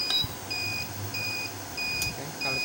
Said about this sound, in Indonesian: buzzer berbunyi over power ini ya